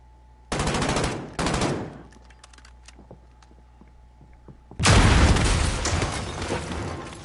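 Loud, close video-game gunfire from Call of Duty: Warzone, with two dense automatic bursts, a stretch of scattered single shots and pops, then a long heavy barrage of blasts and rapid fire, all with no talk.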